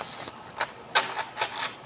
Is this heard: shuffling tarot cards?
yes